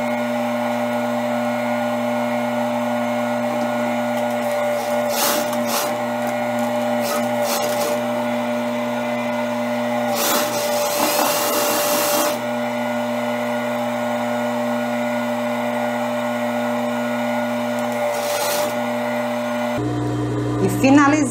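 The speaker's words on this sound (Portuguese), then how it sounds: "vou passar uma costura fechando aqui essa outra lateral" Sewing machine stitching a side seam of a blouse: a steady electric motor whine with a constant hum running throughout, brief bursts of clattering in between, and a change in tone at the end.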